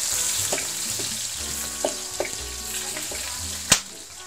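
Chopped onion sizzles in hot oil with cumin while frying for a Bangladeshi katla kalia fish curry, a steady close crackle broken by occasional spoon scrapes and taps.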